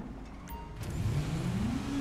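A car in GTA Online pulls away, its engine rising steadily in pitch as it accelerates over a couple of seconds, preceded by brief faint beeps, with no talking.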